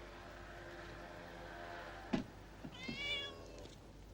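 A cat meows a few times, quietly and nearby, with a sharp knock or clatter between the calls and a faint background hum.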